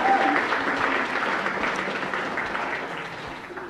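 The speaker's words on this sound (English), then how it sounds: "maybe we should just hold the applause for a sec." Loud, sustained audience applause at an Awesome Foundation Calgary event, a dense wash of many hands clapping that tapers slightly toward the end.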